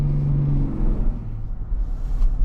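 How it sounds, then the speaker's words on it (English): A 2024 GMC Yukon Denali Ultimate with the Duramax diesel engine drives along, producing a low, steady engine rumble and drone with a faint rising tone early on, heard from inside the cabin. "It has that diesel sound."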